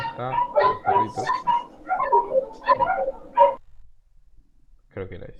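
Small dogs yipping, whimpering and barking in a quick run of close cries for about three and a half seconds, a short pause, then one more brief burst.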